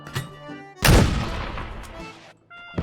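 Mortar fire from the new mortar weapon in the PUBG test server: one loud, close boom with a long rumbling tail, then a second blast starting just before the end.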